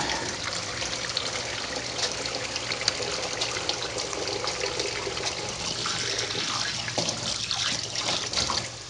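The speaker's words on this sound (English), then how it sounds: "clean my hands, so I've had raw steak on them" Running tap water pours steadily over hands being washed in a home kitchen, a soft, continuous splashing stream with no voices.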